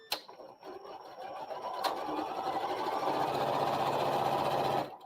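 An M8 sewing machine with a 1/4 inch foot stitches steadily and loudly, a continuous mechanical whir that starts quickly after a brief tap and runs evenly for several seconds before stopping abruptly.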